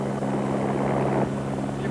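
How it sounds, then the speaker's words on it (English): A helicopter flies low over a roadside crowd at the 2000 Dakar Rally, its rotor and engine making a loud, steady, throbbing drone that fills the whole moment without letting up. "Some a little frightened by the helicopter."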